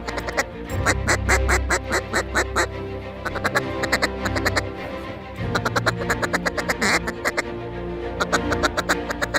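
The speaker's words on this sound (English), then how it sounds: "there's a lot of ducks moving around" Many ducks quack loudly and rapidly during an afternoon field duck hunt, dense overlapping calls in rhythmic bursts from a large flock close by, with brief lulls between flurries.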